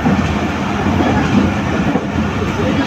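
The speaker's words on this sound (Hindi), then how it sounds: "ये इस वक्त गुज़र रही है फजल गार्डन के सामने से ट्रेन" A passenger train passing Fazal Garden near Khanpur Junction, heard as a loud, steady rumble of wheels on rails with a close, continuous roar throughout.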